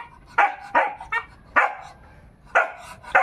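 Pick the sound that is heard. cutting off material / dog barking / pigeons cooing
dog barking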